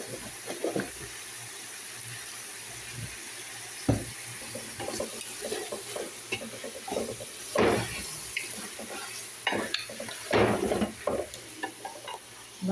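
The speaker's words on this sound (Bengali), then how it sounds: "ভালো করে একটু নাড়াচাড়া করে নিই।" Whole cumin and turmeric being stirred in a frying pan give a low background sizzle broken by scraping and clinking of a spoon against the pan at irregular moments, fairly close.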